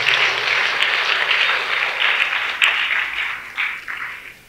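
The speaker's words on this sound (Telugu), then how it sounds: "మీ అందరి చప్పట్లతో." Congregation in a Catholic church in Jagadgirigutta, Hyderabad claps for a priest during a special Mass, a sustained round of applause with a few sharper individual claps near the end as it tapers off.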